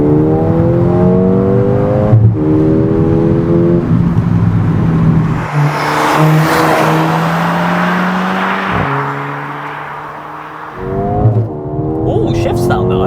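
A pink Mercedes-Benz A35 AMG accelerates hard from inside the cabin, its engine note climbing steadily, then dropping sharply at several quick gear shifts, loud and continuous throughout with occasional voices.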